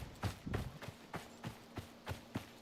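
Hooves clop in a steady walking rhythm as horses move in the video game Icarus, soft and fairly distant, about eight evenly spaced footfalls.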